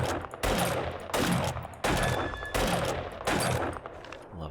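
Lever action rifle fired repeatedly in the survival game 7 Days to Die, about five loud evenly spaced shots with booming tails, each round a sharp crack followed by a brief pause.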